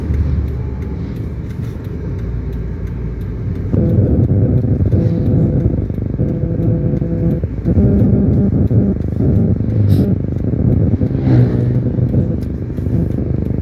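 Heard from inside a car on a road trip between Dieng and Jogja, a loud steady engine drone rises in a stronger rumble and revving as the car overtakes another vehicle, holding high to the end.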